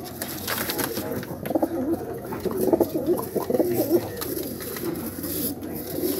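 Pigeons at a pigeon-flying gathering coo in overlapping throaty phrases close by, with scattered clicks and background chatter.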